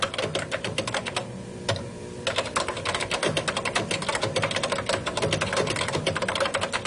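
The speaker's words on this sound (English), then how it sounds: "If I want to insert, I just simply click the button where I want to insert at, and then I type." Typing on an Apple Lisa computer keyboard from 1984, a close, busy patter of rapid key clicks with one short pause, steady and fairly loud with no talking.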